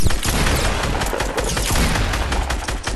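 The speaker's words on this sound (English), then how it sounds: "I'm just shooting for no reason" Dense, continuous video game gunfire, with rapid shots and booming blasts packed together loud and close for the whole stretch, no talk.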